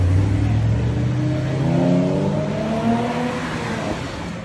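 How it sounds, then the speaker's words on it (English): A brand-new 2016 Chevrolet Camaro revs hard on a comparison test drive at a Chevrolet media event. The engine note climbs steadily in pitch, loud and sustained, with no talking. "That, folks, is a brand new 2016 Camaro."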